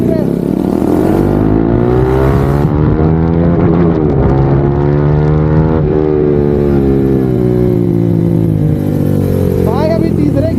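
A vehicle engine pulls hard as it climbs up to third gear, its loud, steady drone swelling and dipping with each gear change across the whole stretch.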